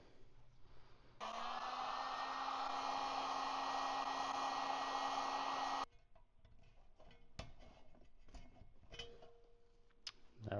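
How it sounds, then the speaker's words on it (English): Heat gun blowing steadily for about five seconds on a press-fit part of a Tanks Inc. PA4 fuel pump, a loud close hiss-roar with a whine that cuts off abruptly, followed by quiet handling clicks. "And they say to heat it up with a heat gun."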